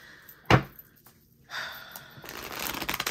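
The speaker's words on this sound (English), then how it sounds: "let me shuffle that again" Tarot cards being shuffled up close, a brief rustle and snap followed by a longer riffling, papery sound.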